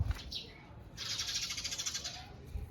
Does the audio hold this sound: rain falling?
no